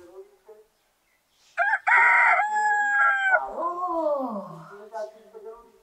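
A loud, drawn-out rooster crow follows brief speech, its pitch sliding down at the end; it may be a voice imitating the crow.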